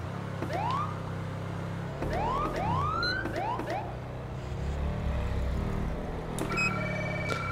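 A police car siren from the GTA 5 LSPDFR game, set as a Charleston, South Carolina patrol unit, gives a run of rising whooping sweeps over steady engine and road rumble, with a short electronic chirp near the end.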